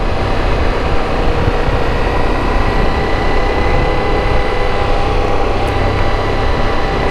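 A Ducati motorcycle cruising past plantations and open fields, its engine a steady, loud, continuous drone mixed with wind rush, with no pauses across the stretch.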